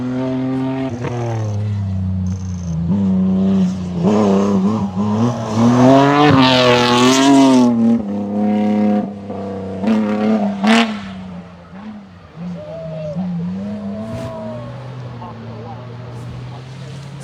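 Rally car at the Oregon Trail Rally on stage 10 at Maryhill, engine revving hard through rising gear pulls with tire spin, loud and close, while spectators talk and cheer over it.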